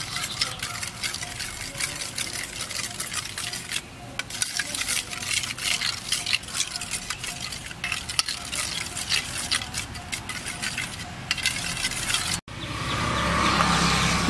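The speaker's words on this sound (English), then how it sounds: "and stir it." A spoon stirs mint paste in a bowl with a continuous soft scraping and swishing, steady and close for most of the time before a brief cut to a different background.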